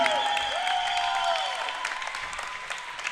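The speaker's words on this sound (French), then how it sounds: "Applaudissements à Justine" Audience applause fills a gym at a women's elite volleyball championship match, a steady spatter of clapping that gradually fades, with sustained tonal music ringing over it.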